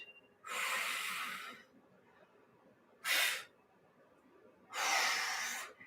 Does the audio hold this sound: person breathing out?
yes